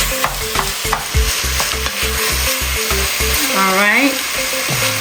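A wooden spoon smashes and stirs food in a sizzling pan for baked ziti, with rhythmic repeated scraping strokes over a constant fry hiss and a brief spoken remark.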